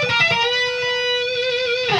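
A fast guitar lick blending sweep picking and tapping rings out as bright, rapid notes over a sustained tone, clear and close with no talking.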